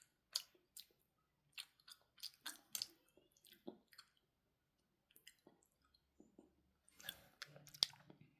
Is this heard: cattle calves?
no